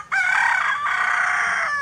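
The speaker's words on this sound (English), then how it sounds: "The rooster is liable to crow." A rooster crows once, loud and close, in a single sustained cock-a-doodle-doo lasting nearly two seconds.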